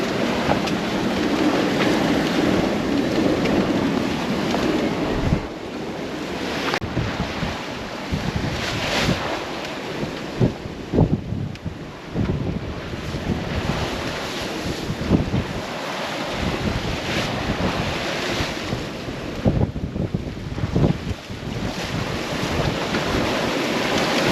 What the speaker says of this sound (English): the waves come from the back, and sometimes even from 40 degrees